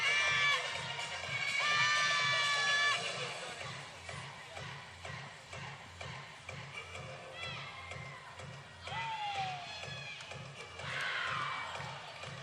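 A crowd at a college gymnastics meet cheers and shouts while rhythmic floor music pulses underneath, with a commentator's voice talking over it at moderate distance.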